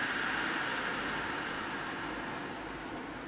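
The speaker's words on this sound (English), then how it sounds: "If you're wondering what that humming noise was, it is this, so I'm sorry if it was loud in the video. But I'm just dehydrating some mango." Food dehydrator drying mango, giving a steady, even broadband hum with a whir of fan noise that holds constant throughout, fairly close and alone without any talk.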